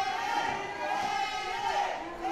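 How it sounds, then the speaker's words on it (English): Wrestling crowd at an APW North Texas Championship match cheering for Xander, a steady continuous roar filling the clip with faint voices mixed in. "Crowd going for Xander"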